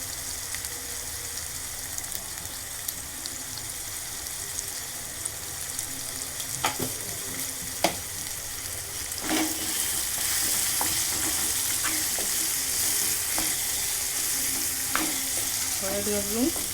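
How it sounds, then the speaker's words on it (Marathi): Potato and spinach bhaji with turmeric sautéing in a pan: continuous close sizzling with repeated scrapes and clinks of a spoon against the pan, the frying growing louder partway through, no voices. "हळद घालून परतून घ्यायचं छानपैकी"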